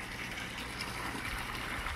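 Water gushes and churns steadily as it is pumped into a pond during a water exchange, creating a circular current; a continuous moderate rushing wash with no pauses and no voices.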